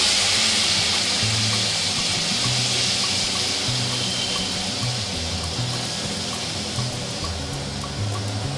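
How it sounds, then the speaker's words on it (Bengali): Water is poured into spices frying for a vegetarian ghugni, producing a continuous rushing hiss and bubbling that holds steady and fairly loud throughout. "আমি একটুখানি জল অ্যাড করে নিচ্ছি।"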